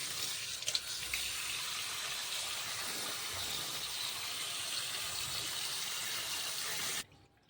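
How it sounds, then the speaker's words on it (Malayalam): Spinach being rinsed under a kitchen tap, with a steady rush of running water splashing into a sink that carries on without a break until it cuts off near the end. "അപ്പം അങ്ങനെ ചീര ഞാൻ കഴുകി വെക്കട്ടോ."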